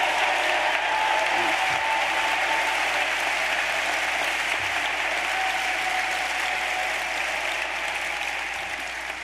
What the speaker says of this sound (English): could we have our orientation leaders stand so we can give them a great round of applause